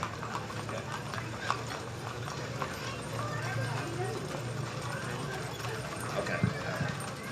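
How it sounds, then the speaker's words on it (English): Horses clip-clop through town during an Olive Hill, Kentucky sesquicentennial parade, a continuous patter of hooves on pavement amid crowd noise and talking voices. "It's always fun to see our fine horses in town"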